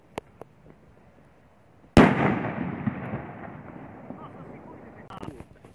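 A New Year's firework goes off with a single sharp bang followed by a crackling, fading rumble, after a few faint ticks and clicks; moderately near, with another small crackle later and a voice briefly in the background.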